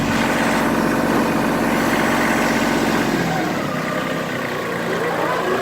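An LS tractor engine runs steadily at a low, rumbling idle close by, its throaty drone easing slightly as the machine backs up on soft, low, soggy ground.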